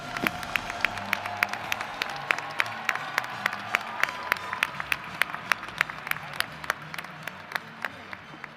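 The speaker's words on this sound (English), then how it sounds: "Please join me in giving all of these graduates a round of applause." Sustained applause from a commencement audience honoring doctoral, MFA and medical degree graduates, dense steady clapping with sharp individual claps standing out, filling a large hall for the whole stretch.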